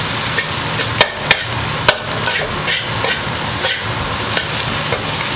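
Eggs and chives stir-fried in a wok, a loud continuous sizzle with sharp spatula knocks against the metal and brisk scraping strokes, close and uninterrupted.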